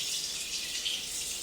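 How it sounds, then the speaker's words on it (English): Water boiling hard in a cooking pot on a stovetop, close by, giving a steady bright hiss and bubbling wash with no pauses and no voices. "The water is like boiling."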